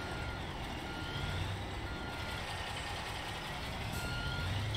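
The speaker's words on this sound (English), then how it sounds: "It's a regular dump truck, right? I'm using the cat." A dump truck in the Construction Simulator 2022 video game gives off a steady run of reversing beeps over a constant engine rumble, loud and close, with no voices.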